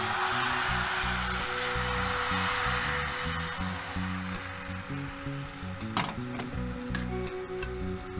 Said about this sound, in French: Lorsque la poêle est bien chaude, versez une louche de pâte à bien répartir au fond de la poêle.